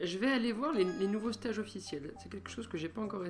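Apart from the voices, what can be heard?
None of the usual background noises is heard.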